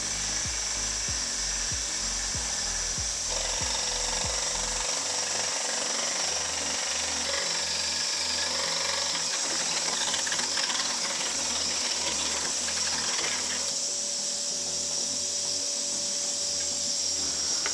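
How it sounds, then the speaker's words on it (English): A scroll saw cuts wood in a garage with a steady, loud buzzing rattle that lasts throughout and pulses rhythmically during the first few seconds. "probably on the scroll saw"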